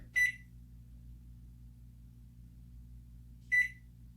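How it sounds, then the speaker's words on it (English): Two short electronic beeps from a microwave oven keypad, a few seconds apart, over a quiet low hum. "I'm gonna turn the microwave on. I'm gonna set the button right there"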